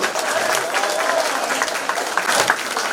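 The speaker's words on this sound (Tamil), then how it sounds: "அவங்களுக்கான ஒரு கைத்தட்டல் கொடுங்கோ" Audience applause for dance students from a temple dance school during a Rama Navami performance at a Rama temple, a dense steady clapping from a crowd throughout, fairly loud and close.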